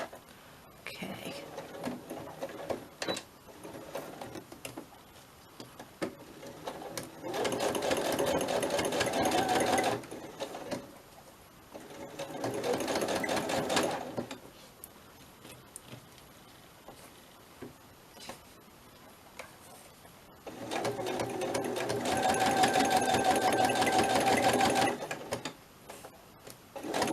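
A sewing machine stitches netting in short bursts of loud, rapid whirring, with quiet pauses between runs and soft murmured speech nearby.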